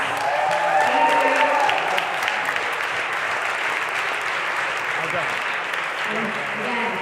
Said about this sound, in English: Can you please give them all a round of applause?